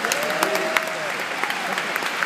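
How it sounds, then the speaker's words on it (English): Audience applause at the Emmy awards ceremony for a 2013 sound editing win, a dense steady patter of many hands clapping at moderate distance with a faint voice beneath. "all the Mexicans around here clapping for Independence Day"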